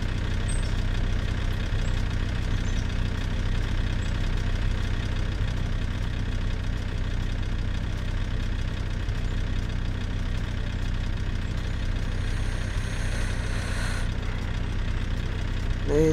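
A car engine idles continuously in a car parking roleplay video game, a steady mid-to-low drone throughout, with a brief brighter burst of noise near the end.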